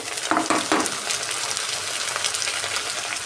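Ginger paste and tomatoes fry in a pan for Nellore-style taro curry, a loud steady sizzle close by with a few stirring scrapes early on.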